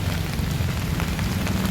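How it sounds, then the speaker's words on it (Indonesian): Steady rain falling outdoors during a walk, a dense even hiss of drops on surfaces with a low rumble underneath, continuous and fairly loud with no voices. "masih hujan. We are still walking on the rain."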